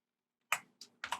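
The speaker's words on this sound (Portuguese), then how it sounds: "Tô digitando tudo na mão pra decorar aqui" Fingers type on a computer keyboard while coding a Meteor.js project: three or four sharp, close key clicks in quick, uneven succession after a short silence.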